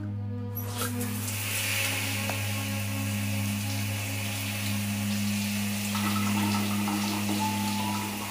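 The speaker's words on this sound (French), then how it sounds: "Je vais aller prendre une douche." Shower water running in a home bathroom, a steady full rush and splash under a low hum that holds evenly throughout.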